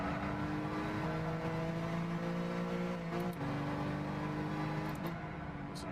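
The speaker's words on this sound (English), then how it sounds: "There's an upshift in there" Car engine in Gran Turismo 6, a steady rising whine that dips at an upshift midway and again near the end, fairly quiet and alone.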